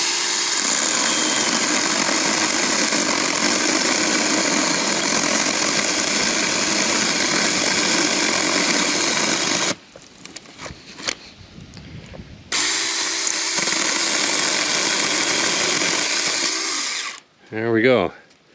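A Saker mini-chainsaw cuts through hardwood while clearing understory, a loud, steady, high motor whine sustained for about ten seconds, a short pause, then another long cut; a voice is heard at the very end.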